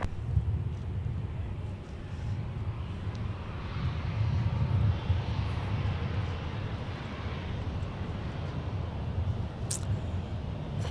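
A Sun Country airliner taxis past at Minneapolis–St. Paul airport, giving a steady, loud low jet engine rumble and broadband roar that stays fairly constant throughout, with no talk.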